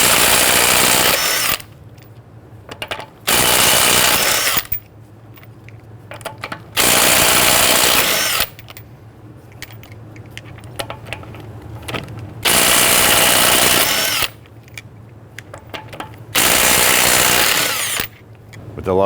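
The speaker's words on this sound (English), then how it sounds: "Using a 21mm socket, loosen and remove your lug nuts." Impact wrench spinning off 21mm lug nuts on a 2011-2017 Nissan Quest, heard as four loud sustained bursts of whirring and hammering, each a second or two long, separated by quieter pauses in a garage setting.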